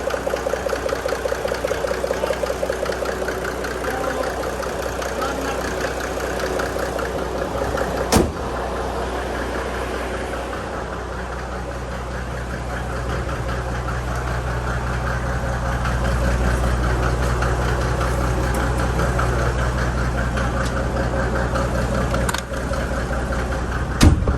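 Diesel idle from a Mercedes W463 G300 with an OM606 engine and a valve that isn't sealing: a steady, close, continuous rumble with a low throb, two brief knocks breaking the drone, no talk.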